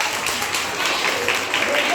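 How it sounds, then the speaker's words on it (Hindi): A classroom of students clapping together in a dense, steady burst of applause, loud and close throughout. "ताली बजाइए"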